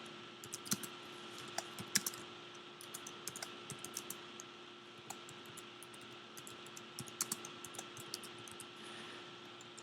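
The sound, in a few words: typing on a computer keyboard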